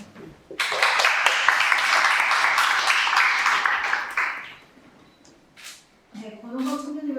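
An audience at a policy forum applauds after a presentation, a dense burst of clapping that fades out after about four seconds, followed by a speaker's voice on the microphone.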